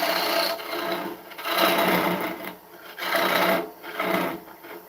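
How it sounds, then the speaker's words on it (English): Woodturning lathe cutting away the tenon on a 6x2 oak dish: a gritty, scraping rasp rising and falling in repeated passes, close and fairly loud, with brief quieter gaps between cuts. "Let's take the tenon away."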